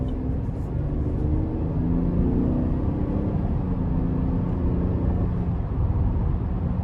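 Steady low engine drone from a 2023 Chevy Traverse LS with the 3.6 V6 pulling under throttle, heard from inside the cabin as a continuous rumble with road noise, no talking over it.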